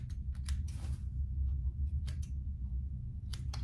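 Scissors cut off the excess fabric of a handmade waist pack, giving several short, crisp snips spread irregularly across a steady low background hum, with no talking.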